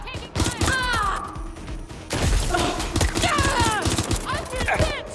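Sustained rapid gunfire in Watch Dogs: Legion, dense repeated shots close by, mixed with urgent voices and other game sounds.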